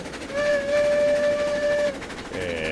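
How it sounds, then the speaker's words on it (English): A steam locomotive whistle in the RailRoads Online game gives one long, loud, steady blast of about a second and a half. A shorter toot follows, then a lower tone with the rumble of the moving train underneath. "Give it a little whistle."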